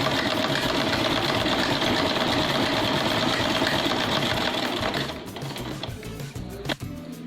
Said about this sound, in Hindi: और अब मैं इसे बीच में से ऐसे सिलाई कर लूँगी।